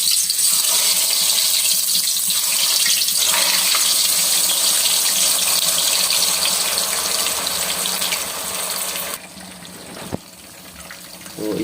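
Marinated, spiced fish sizzles and crackles steadily in hot oil, a dense continuous hiss that drops a little near the end with a brief knock, no voices over it.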